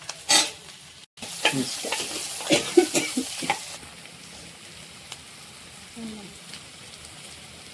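Onion and ginger-garlic paste go into hot oil left over from frying eggs, and a soft sizzle follows. Clinks and spoon stirring come in bursts, then the pan settles to a quieter hiss. A voice briefly speaks over it.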